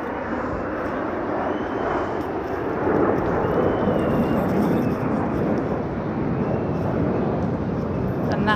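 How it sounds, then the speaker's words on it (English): Jet engines of the Al Fursan aerobatic display team roar at the UAE National Day airshow at Expo 2020 Dubai, a loud, steady broadband rumble that swells slightly partway through and holds without pause. "And that is the roar of those engines."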